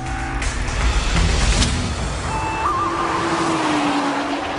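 A Nissan GT-R drives at speed through countryside, its engine a continuous loud drone with a rising whine and a shift partway through, no voices.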